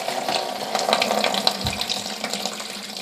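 Water gushes steadily from a disconnected toilet fill valve during a fill valve replacement on a leaking toilet, a continuous close splashing flow with no talk over it.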